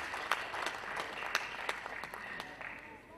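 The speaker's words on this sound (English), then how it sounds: "Please give them a round of applause" Applause from the audience at a university convocation lecture, a steady round of clapping with a few sharper claps standing out, fairly distant and gradually tapering off.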